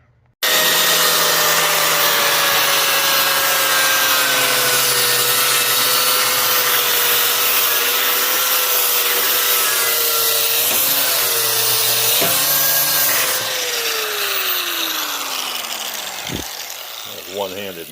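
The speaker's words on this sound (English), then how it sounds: "That's a sanding disc on a Milwaukee angle grinder." A Milwaukee angle grinder fitted with a sanding disc whines loudly and steadily for over a dozen seconds, its pitch sagging and shifting as it bears on the gasket lid of a carpet cleaning truckmount waste tank, then spinning down.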